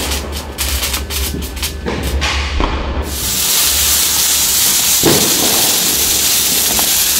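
Diwali firecrackers burst just outside a gate in Bangalore, with a few sharp cracks early on. A dense, continuous fizzing hiss then takes over, loud and close.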